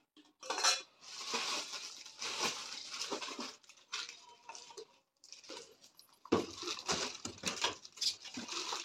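A plastic mixer grinder lid and a spoon are handled at home, giving scattered clinks, taps and light rattles in uneven bursts with short quiet gaps, close and fairly soft.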